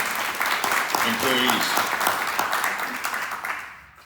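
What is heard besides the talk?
audience applause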